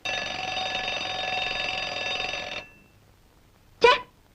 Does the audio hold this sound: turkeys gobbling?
no